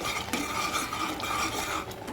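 A spoon stirs thickening packet milk for palkova in a heavy pan, giving a steady close scraping and swishing with faint metallic clinks, continuous throughout with no talking.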